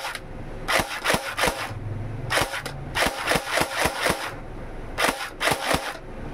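Sharp, snappy shots ring out from an HK416D gel blaster toy rifle with blowback, fired semi-automatically in irregular single and quick double cracks, close and loud.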